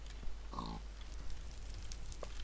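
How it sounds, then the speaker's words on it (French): A pig in a video game gives one short, close grunt partway through, over a low steady hum and faint background game sounds. "je me venge sur un cochon sans défense"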